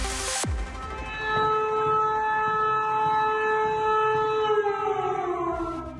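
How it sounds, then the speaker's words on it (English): An air raid siren in Ukraine warns of a possible airstrike. It starts with a brief burst, then a steady, loud, sustained wail that holds for several seconds and slowly falls in pitch. No one speaks. "An air raid siren in Ukraine to warn of a possible airstrike."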